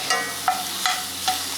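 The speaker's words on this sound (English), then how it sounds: "Let the tomato paste caramelize." Tomato paste cooks in a pan with a soft, steady sizzle, broken by three quick stirring scrapes spaced evenly apart.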